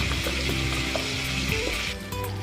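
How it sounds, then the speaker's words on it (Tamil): Green chillies and onions sautéing in ghee and oil in a pan, a steady close sizzle with faint stirring scrapes and a low background hum. "பச்சை மிளகாயும் பெரிய வெங்காயமும் போட்டு வதங்க விடுங்க."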